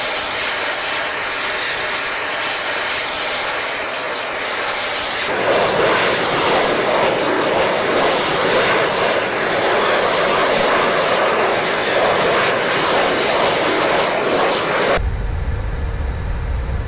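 An airplane in the military game ARMA 3 drones steadily overhead, loud and continuous, with the engine roar swelling partway through before cutting abruptly to a different background rumble.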